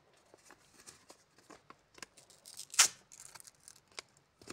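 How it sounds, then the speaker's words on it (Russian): Opening a collectible blind-bag packet of Kosmiki toy figures, quiet crinkling and tearing of thin foil wrapper with one sharper rip midway, close and soft, no talking. "Открываем следующий пакетик."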